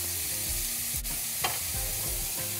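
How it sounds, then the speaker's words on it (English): Steady, continuous sizzling of lamb kebab meat frying on a hot surface, with a couple of brief clicks and scrapes over the constant crackle. "I love the sizzling sound"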